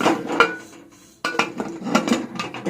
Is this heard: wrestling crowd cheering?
no